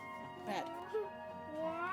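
A house cat gives a short meow partway through, with a second faint mewing sound shortly after, heard under steady game music and background voices.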